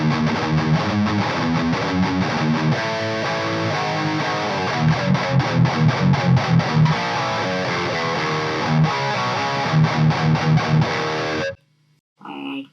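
Loud, heavily overdriven electric guitar chords ring and chug with a gritty, fuzzy tone, then cut off abruptly near the end.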